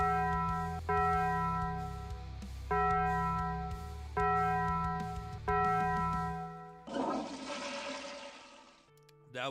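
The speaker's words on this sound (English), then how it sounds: "Let's ring that bell" A ringing bell strikes four times in an even rhythm, each tone sustaining and fading before the next, followed by a rushing, flush-like burst of noise.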